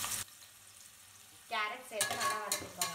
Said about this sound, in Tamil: நறுக்கி வச்ச கேரட் சேர்த்துக்க போறோம்